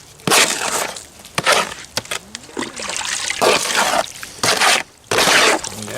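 Wet Portland cement whitewash being stirred and mixed with water by hand, giving splashy, sloshing bursts that come and go in uneven strokes, close and fairly loud, with short pauses between.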